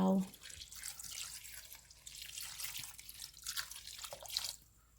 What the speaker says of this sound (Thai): อย่าลืมน้ำเปล่านะคะ อันนี้เราใส่น้ำเปล่า